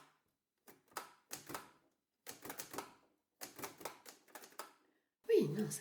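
Old manual typewriter keys struck in short uneven bursts, close and crisp, with pauses between runs and a heavier carriage or lever clunk at the end.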